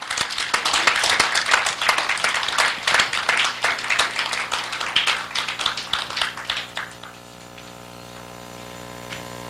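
An audience claps warmly at a civic launch ceremony, loud and dense applause that thins into scattered claps and fades out after about seven seconds, leaving a low steady hum.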